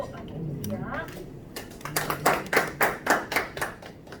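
Audience at a regional social economy briefing session in Gyeongbuk clapping for the hub center director, starting with scattered claps and building into a brief burst of close, sharp hand claps that fades quickly.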